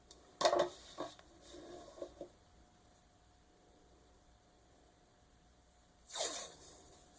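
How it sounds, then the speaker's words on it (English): Washi tape pulled and pressed down the spine of a handmade sewn fauxdori notebook insert: a crisp tearing, crackling burst at the start with a few soft taps after it, then quiet, then a second short sticky rip near the end. "And then I'm going to add washi down the spine."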